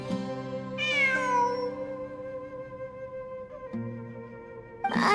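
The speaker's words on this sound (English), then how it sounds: "I'm not hearing things. It really is a cat." A cat meows in the video game Genshin Impact, giving a clear, drawn-out meow near the start and a shorter one at the end over a steady, tonal game music bed.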